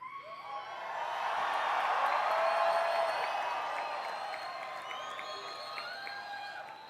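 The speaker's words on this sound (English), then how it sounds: "I ask all the graduates to give one more big cheer." Engineering graduates at a Cal Poly Pomona commencement cheer: a crowd roar swells over about two seconds, peaks with whoops and whistles, then slowly fades.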